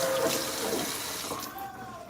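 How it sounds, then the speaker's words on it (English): Water running from a kitchen tap into a cooking pot, a brief steady hissing rush that fades toward the end. "And then I've got to put water in the pot."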